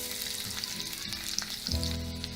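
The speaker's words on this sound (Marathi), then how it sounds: "2 चमचे तेल गरम करून घ्यायचं. यामध्ये थोडी मोहरी घालायची, थोडं जिरं, 5-6 लसूणच्या पाकळ्या बारीक चिरून घेतलेल्या आहेत त्या घालायच्या" Mustard seeds, cumin and finely chopped garlic crackle and sizzle in a couple of spoons of hot oil, a close, continuous frying hiss with small pops and a brief low stir near the end.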